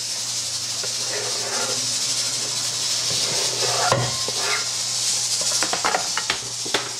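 Dry ingredients mixed with chopped pecans in a bowl, a steady soft scraping and rustling hiss with a few light clinks of utensil against the bowl toward the end.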